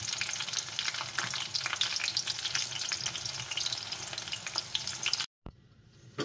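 Eggplant frying in hot oil, a dense crackling sizzle with popping spatters, close and loud, cutting off abruptly near the end.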